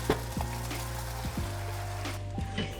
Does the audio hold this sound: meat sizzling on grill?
yes